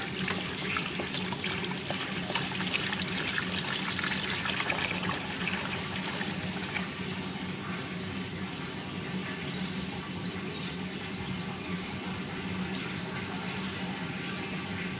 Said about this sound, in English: I'm now going to pour what I've made, clean oil, into a big vat.